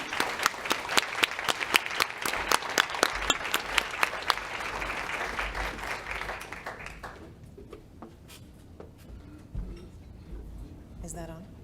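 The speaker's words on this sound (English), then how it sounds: "Give them a round of applause." Assembly audience at a 2023 spring representative meeting breaks into loud, dense applause that holds steady for several seconds, then thins and fades to scattered claps and room noise.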